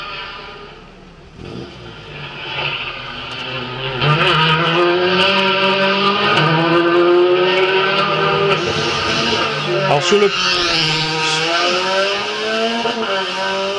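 A Citroën DS3 R3 rally car races through a special stage of a Guadeloupe tarmac rally, its engine revving hard and rising and falling through gear changes, with tire squeal, loud and close for most of the pass.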